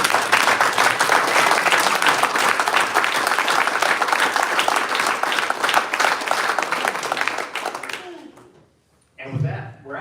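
Dense, loud applause from a conference audience for the event's planning committee, sustained for about eight seconds before dying away, followed by a brief burst of noise.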